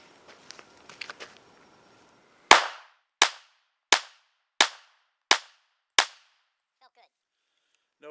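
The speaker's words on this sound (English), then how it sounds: "Next round of shooting, again 5 yards, going center mass of the target this time." Six sharp gunshots from a Smith & Wesson M&P Shield pistol fired at a target 5 yards away, evenly spaced about two-thirds of a second apart, loud and close, after some light handling clicks.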